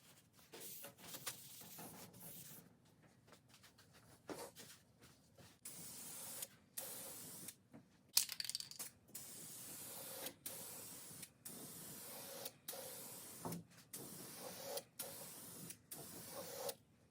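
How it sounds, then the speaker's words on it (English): Short aerosol bursts of 2-in-1 primer hiss onto a repaired passenger floor pan panel of an early Ford Bronco, a dozen or more quick sprays with brief pauses, close and fairly quiet. "I'll spray some of that 2-in-1 on it"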